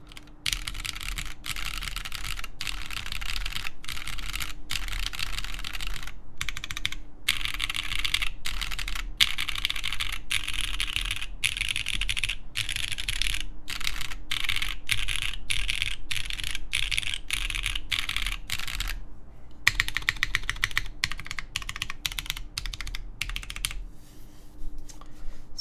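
Typing on an Origami TKL mechanical keyboard fitted with O-rings: a close, continuous run of keystrokes, fast bursts and repeated presses with short pauses, over a low steady hum.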